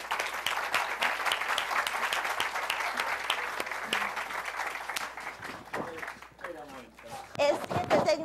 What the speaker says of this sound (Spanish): Un fuertísimo aplauso para Alberto Vivó.